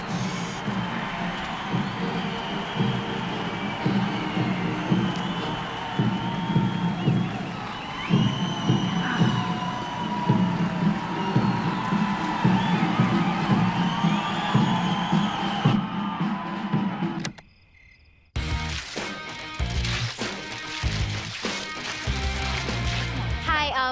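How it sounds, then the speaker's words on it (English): A large crowd cheers, whoops and applauds loudly and continuously at a high school gathering, drops out abruptly for about a second, then resumes at full volume. "Hold for laughter and applause from the crowd."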